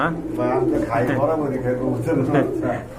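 Pigeons coo in soft, rolling bursts close by, while a person talks steadily over them throughout.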